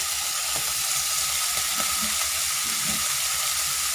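Pork with fingerroot sizzles steadily as it is stir-fried in a hot pan, a continuous close frying hiss with faint scraping stirs and no voices.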